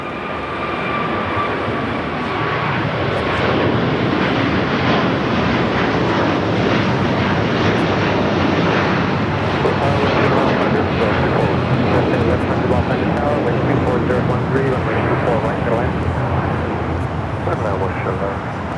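A jet airliner takes off from runway 25 Right at LAX, its broad, loud engine roar steady throughout, with people talking over it.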